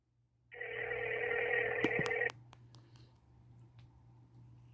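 A telephone sounds in a quiet room with a low steady hum, a loud buzzing ring tone about two seconds long followed by several sharp clicks, as if dialed again.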